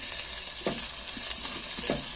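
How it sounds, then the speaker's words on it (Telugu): Onion and curry leaves with tempering spices frying in a couple of spoons of oil for a flat-bean fry: a steady close sizzle with soft stirring scrapes now and then, no talking. "రెండు స్పూన్ల ఆయిల్ అయితే వేసుకున్నాను ఇందులోకి పోపు దినుసులు కొంచెం కరివేపాకు కొంచెం ఆనియన్ అయితే వేసి"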